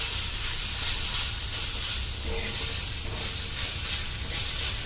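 Dried chillies and masala sauté in a hot pan, giving a continuous, close, even sizzling hiss that holds without pause, with no talking over it.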